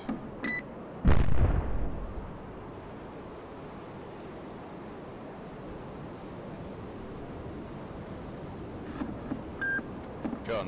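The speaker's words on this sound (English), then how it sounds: "Missile launch detected" A missile fires from a naval vessel in the submarine game Cold Waters, with one loud booming whoosh that swells and fades over about a second, followed by a long, steady, rushing sea-like roar with faint electronic beeps.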